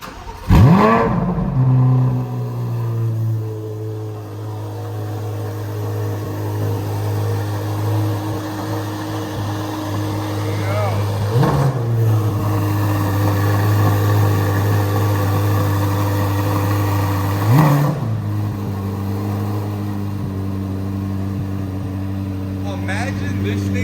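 A rare Honda NSX starts from cold and settles into a high, steady idle, with three sharp throttle blips spread across the stretch, each rising and falling quickly while the engine drones loudly up close.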